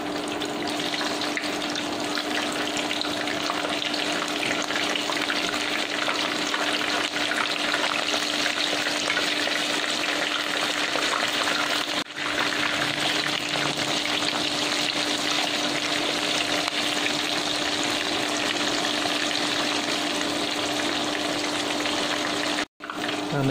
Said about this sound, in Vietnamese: Rồi mình sẽ vẫn chiên đậu hũ với lửa lớn luôn.